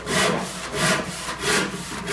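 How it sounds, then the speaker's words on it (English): A hand saw cuts a small section off a twisted wooden board in steady back-and-forth rasping strokes, about four strokes in two seconds, loud and close with no talk. "if I saw this little section off"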